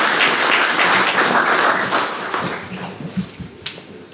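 Audience at a theatre evening in Subotica applauds young actors, a dense burst of clapping that fades out after a few seconds into scattered claps.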